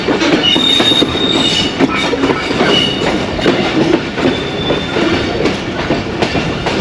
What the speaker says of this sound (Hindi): ज़बरदस्त ट्रैक साउंड्स